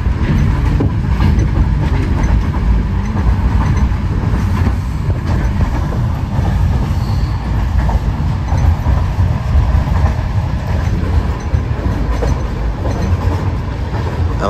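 An overnight passenger train bound for Kazan rumbles continuously and loudly from inside the carriage, a dense steady roar with faint rhythmic rattling and no voices.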